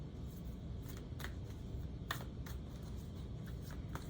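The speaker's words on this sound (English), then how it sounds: "let's start with one more shuffle." Tarot cards being shuffled by hand during a yearly reading, a steady papery riffle with several sharper snaps standing out, close and fairly quiet with no talking.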